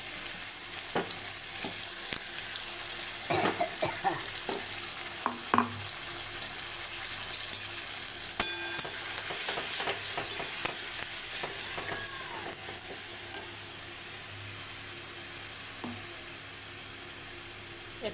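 Thankuni leaf chutney paste cooking in hot oil in a wok gives a steady low sizzle with scattered clicks and scraping stirs.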